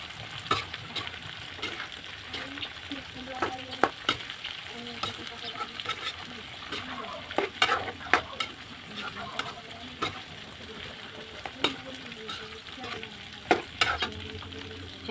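Garlic, onion and chili frying in a pan while being stirred, a constant sizzle broken by repeated scraping and clacking of the utensil against the pan at irregular intervals, close up, with no clear speech.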